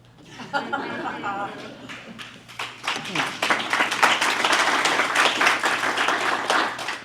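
An audience at an election integrity briefing breaks into applause after a brief spoken introduction, the dense clapping building and holding steady through the last four seconds.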